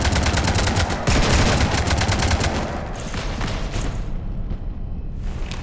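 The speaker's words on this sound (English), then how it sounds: "You want to stop shooting up my ship?" Gunfire shooting at a ship in the Mass Effect 3 Citadel DLC: dense, loud, rapid automatic fire that roars continuously, then thins into a rumbling barrage, with no talk over it.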